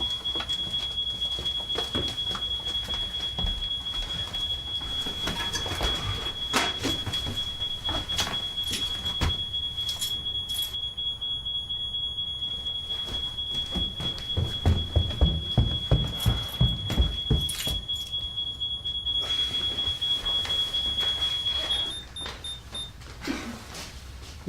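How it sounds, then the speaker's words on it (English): A house burglar alarm sounds as a steady high electronic tone that holds for about twenty seconds and then cuts out, with clattering, knocks and movement beneath it. "She's gone and set the burglar alarm off."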